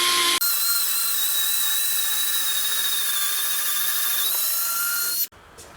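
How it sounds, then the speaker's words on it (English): A Fanttik NEX L1 Pro 3.6V cordless screwdriver drives a 4mm drill bit into wood with a loud, steady high-pitched motor whine that holds for about five seconds and then cuts off abruptly. "Let's see whether it will drill a 4mm drill bit into the wood."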